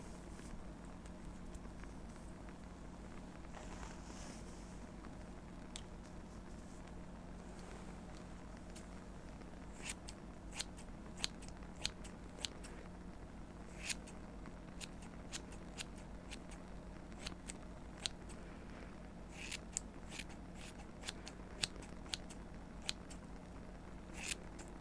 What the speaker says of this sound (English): let's trim off a bit more of this length, and we'll see how you like it then